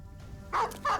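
War dogs barking in the Battle Brothers video game, two sharp close barks in quick succession over a faint background hum.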